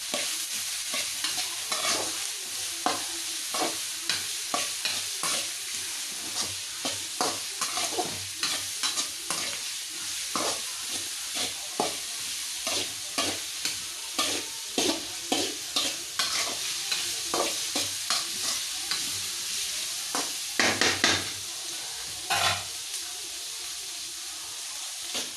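Shredded cabbage stir-frying lightly in a hot pan, a soft continuous sizzle broken by regular scraping and tossing strokes of a spatula, close up, with no talking.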